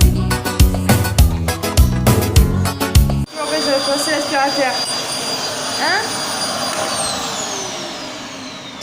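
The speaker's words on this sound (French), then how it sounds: "L'aspirateur." A vacuum cleaner whines loudly and steadily after an abrupt start, its high-pitched motor drone holding on for several seconds with slight pitch shifts, while people talk faintly over it.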